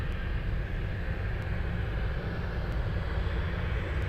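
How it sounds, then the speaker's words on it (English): A Grand Aviation Cessna Grand Caravan, a small single-propeller plane, taking off at Anchorage airport, heard as a steady, fairly loud low engine drone that holds level throughout, with no voices. "It's a Grand Caravan."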